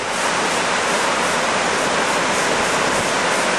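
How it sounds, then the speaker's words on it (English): The wide waterfall at Lepreau Falls, New Brunswick, roughly 100 feet across, pours in a loud, dense, unbroken roar that fills the whole scene without pause. "This waterfall here is quite spectacular here."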